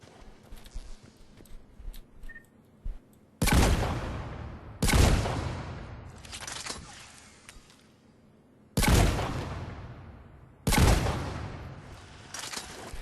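Wraith shotgun blasts at a target range in Mass Effect 3, four loud separate booms spaced a second or more apart, each with a long decaying tail, over quiet background noise with faint footsteps.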